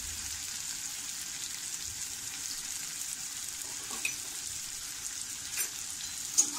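Turmeric and coriander leaves sautéing in a pan over medium heat, a steady soft sizzle and frying hiss with a few faint stirring clicks, close by and alone.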